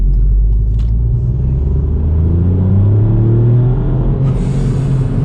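A 2022 Ford Fiesta ST (MK8, ST Edition) accelerates hard, heard from inside the cabin as a loud, steady engine rumble whose tone climbs smoothly through the gears, with no talking.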